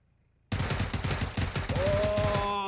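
After a brief quiet start, loud, rapid automatic gunfire erupts in PUBG and continues in a fast, even burst, close and dominant.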